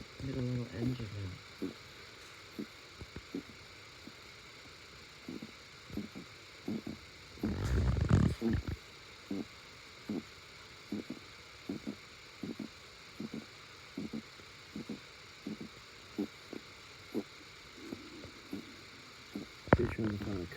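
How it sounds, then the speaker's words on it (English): Fast, heavy breathing from a struggling patient with fluid around the heart and lungs, about thirteen breaths every ten seconds. Short, even puffs repeat in a steady rhythm up close, with a louder rustling burst partway through. "You can hear her breathe."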